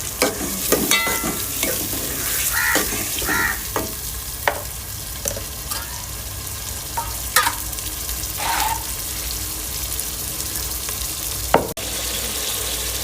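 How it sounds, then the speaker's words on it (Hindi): Chicken pieces fry with tomatoes in a pan, giving a steady sizzle broken by repeated scraping and stirring clatters and a few sharp knocks, with no talking. "गोश्त को भी हम फ्राई कर दें"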